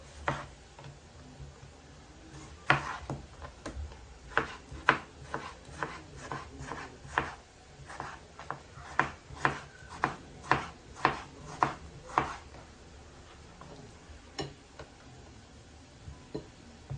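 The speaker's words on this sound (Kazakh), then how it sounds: "Қызанақтарымызды осындай барлығын турап аламыз." A knife chops tomatoes on a board in a steady rhythm of soft, close taps that slow and thin out toward the end, with no talk.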